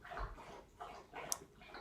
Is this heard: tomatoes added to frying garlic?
no